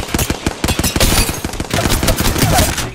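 Rapid automatic gunfire from the video game Apex Legends rattles in close, loud bursts. The shots run in quick strings with short gaps, then blend into a denser stretch of firing.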